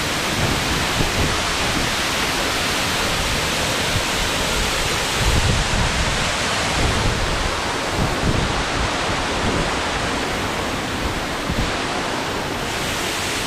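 Roaring water and strong wind at Curug Sadim waterfall in Subang pour out as a dense, continuous broadband rush, loud and close, with gusty buffeting throughout and no voices.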